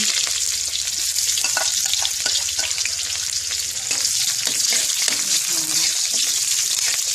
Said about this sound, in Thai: เจียวหอมให้มันหอม